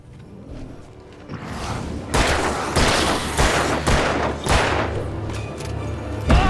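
Gunfire in the video game Alan Wake: a run of sharp shots at uneven intervals with heavy low booms, loud and close over a dark ambient game background.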